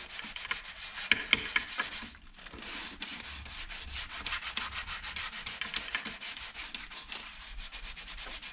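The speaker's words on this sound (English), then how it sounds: "In between coats, I've been using some 240 sanding on a foam block." Steady back-and-forth strokes of 240-grit sandpaper on a foam block rasp close by over varnish between coats, a continuous gritty scratching with a brief pause partway through.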